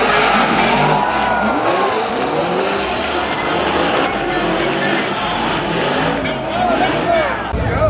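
A big-turbo BMW E46 M3 drift car at a Formula Drift event roars loudly and continuously, with engine pitch swooping up and down and tire noise, while people talk over it.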